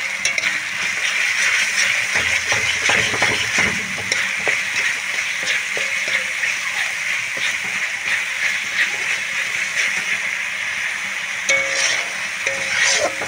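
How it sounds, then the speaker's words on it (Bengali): Spice masala with cumin powder frying hard in a pan, a loud continuous sizzle with occasional stirring scrapes throughout, no voices. "পুরো মশলার সঙ্গে আমি জিরের গুঁড়োটা ভালো করে কষিয়ে নেব।"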